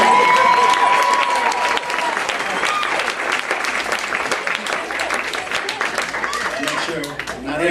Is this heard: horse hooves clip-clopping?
no